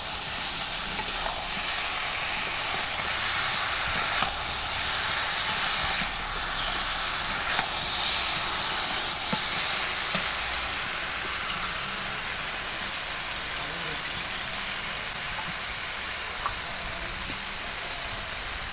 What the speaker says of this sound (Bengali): এবার আমি মাছগুলো এর ভেতরে দিয়ে দিলাম, দিয়ে মাছগুলো দিয়ে সামান্য একটু নেড়ে চেড়ে জল ঢেলে দিই